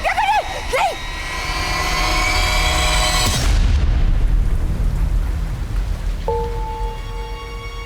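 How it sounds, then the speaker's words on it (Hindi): Heavy rain falls at night in a steady, dense hiss, with a deep boom partway through; voices are heard briefly near the start and a faint tone sounds toward the end. "चल घर चल, बहुत बारिश हो रही है।"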